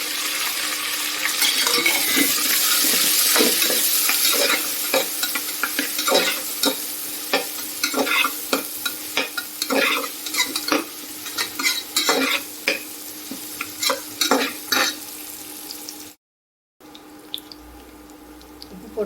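Ginger, garlic, two large onions and a green chili fry loudly in a pan, a dense sizzle at first that gives way to repeated stirring and scraping, with a brief silent break near the end.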